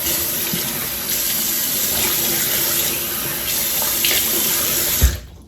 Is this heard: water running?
yes